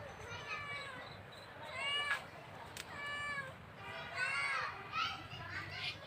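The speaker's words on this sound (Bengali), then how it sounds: "এখানে আপনারা ম্যাও ম্যাও শব্দ শুনতে পাবেন, কারণ না এখানে আমার বিড়াল লুকাই আছে।" A cat hidden in a corn field meows repeatedly in short, fairly close calls while people talk over it and children's voices sound in the background.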